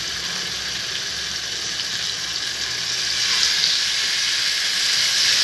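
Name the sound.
marinated chicken frying in hot oil, sizzling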